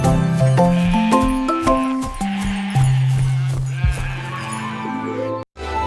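Several sheep bleat in turn, loud and close, their wavering cries following one another almost without pause, with a faint jingle underneath.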